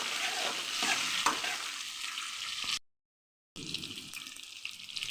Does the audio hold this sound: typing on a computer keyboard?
no